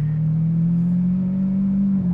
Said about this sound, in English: Great howl of the exhaust in the 12-cylinder.